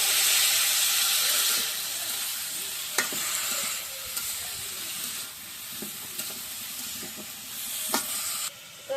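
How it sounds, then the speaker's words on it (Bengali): Turmeric and chili powder being stirred through hot oil in a frying pan, a steady close sizzle with scraping strokes of the spoon and a few sharper clacks against the pan, no talk. "হলুদের গুঁড়া দিলাম এখন দিব মরিচের গুঁড়া নাড়াচাড়া দিয়ে"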